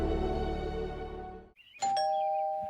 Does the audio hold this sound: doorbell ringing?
yes